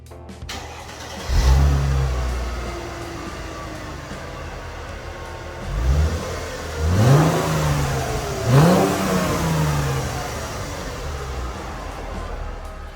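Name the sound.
2006 Chrysler Crossfire engine starting and revving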